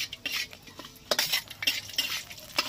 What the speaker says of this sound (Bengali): আর দিয়ে দিচ্ছি একটা তেজপাতা। এটাকে হালকা করে ভেজে নেব